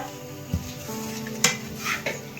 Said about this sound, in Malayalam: ഗരം മസാല നമുക്ക് എല്ലാം കൂടി ഇട്ട് ഇളക്കാട്ടോ